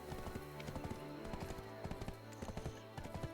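Hooves of a horse clip-clop steadily in Black Desert Online, a quick, even rhythm of sharp taps over a low game backdrop, with no one talking.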